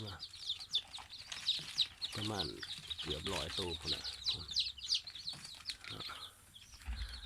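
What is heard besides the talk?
newly hatched chicks and chickens on a farm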